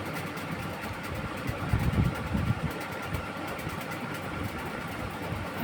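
A sewing machine stitches the elastic band of a salwar, giving a steady close motor whir with a brief busier burst of stitching near the middle.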